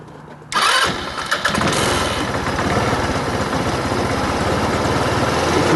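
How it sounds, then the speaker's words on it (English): A scooter engine cranks and catches after about half a second, sputters briefly, then settles into a steady, close idle for the rest of the clip. "right here, we are going to turn on the scooter."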